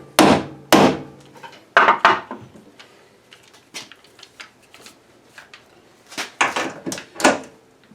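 A hammer strikes a Fiat 500 oil pan during disassembly: sharp, loud metallic knocks come in separate clusters with short quiet gaps, then a faster run of blows near the end.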